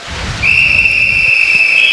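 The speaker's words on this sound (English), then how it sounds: "This will be the whistle." A long, loud referee's whistle blast at a swimming race rings steadily for well over a second, sharp and close above low murmuring crowd noise.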